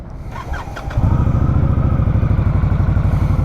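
A 2020 Indian Scout Sixty Bobber motorcycle engine fires up about a second in and settles into a loud, steady, close-up idle rumble with a throbbing low pulse.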